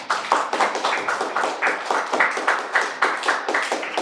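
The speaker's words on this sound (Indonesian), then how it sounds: "Tepuk tangan untuk Rangga." Classroom clapping for a student named Rangga, a small group of hands beating in a quick, uneven rhythm of repeated bursts, fairly close and steady throughout with no talk.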